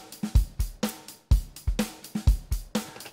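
An acoustic drum kit plays a steady groove on its own, with punchy low kick and snare hits landing in a regular rhythm and a brighter cymbal or hi-hat wash on top, close and clear.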